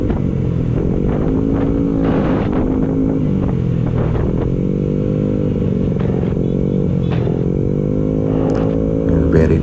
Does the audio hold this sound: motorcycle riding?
yes